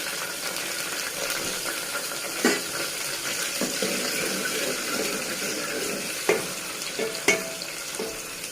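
Tomatoes and green chillies frying in a pan, a steady close sizzle with occasional clinks and stirring knocks throughout.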